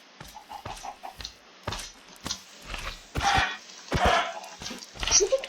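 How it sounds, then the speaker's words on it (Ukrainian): Chickens cluck in short, irregular bursts at a moderate distance, with some rustling and scattered noises around them. "Воно курки."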